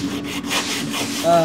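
Car paint is sanded by hand with 3M sandpaper, giving a close, steady abrasive rubbing and scratching that continues without pause for a moment and swells slightly at the end.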